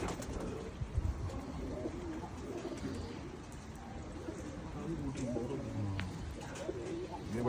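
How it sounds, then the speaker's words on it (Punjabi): Pigeons in an Australian fancier's loft coo in low, repeated murmurs against steady background noise, with a brief flutter or two near the start. "ਵੱਡੀ ਕਬੂਤਰ ਚਿੱਟੀਆਂ ਅੱਖਾਂ ਵਾਲਾ ਕਬੂਤਰ"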